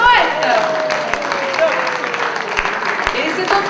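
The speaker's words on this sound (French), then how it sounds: "on applaudit le poète" An audience at a slam poetry competition applauds a poet after the scores are read. The steady clapping sits beneath someone speaking throughout.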